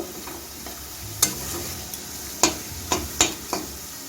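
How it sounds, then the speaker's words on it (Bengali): Onions frying in a pan over medium gas: a soft continuous sizzle broken by several sharp, close clicks and scrapes of a spatula stirring against the pan at irregular intervals. "গ্যাসটাকে মিডিয়ামে রেখে পেঁয়াজটাকে ভেজে নিচ্ছি"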